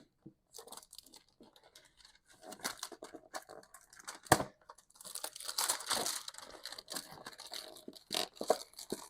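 Foil wrappers of 2023 Panini Wild Card football card hobby packs being torn open, crinkling and ripping in close bursts that swell and fade, with sharp tearing peaks amid quieter rustling.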